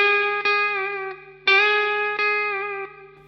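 Sustained electric guitar notes from a solo, played with a smooth effects-laden tone, gentle vibrato and a slow bend, each note picked cleanly and ringing alone before decaying.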